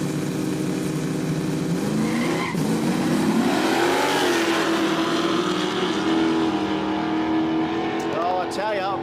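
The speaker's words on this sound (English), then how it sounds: "This guy from Sydney here in the Datsun." A Datsun drag car at a Quick Street drag racing event revs hard and launches, its engine note rising and sustained loud and close, with a brief tire chirp, while a commentator talks over it.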